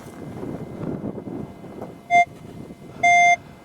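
A Minelab X-Terra 705 metal detector passes over a phone and sounds two steady electronic tones, a short one and then a longer one, over faint outdoor rustling.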